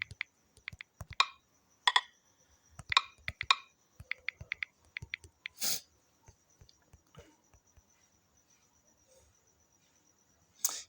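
Irregular clusters of crisp computer keyboard keystrokes, close and fairly quiet, with short pauses between bursts and a final sharp tap after a long gap.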